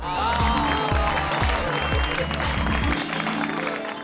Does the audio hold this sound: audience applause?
yes